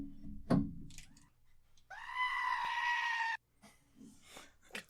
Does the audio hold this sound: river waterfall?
no